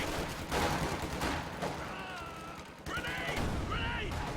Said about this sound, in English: Machine gun turns to engage against these conscripts here.